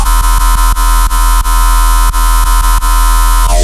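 A harsh metallic screech synth tone with its modulation knob turned all the way up, a loud buzzing drone pulsing in a rapid rhythmic stutter before cutting off.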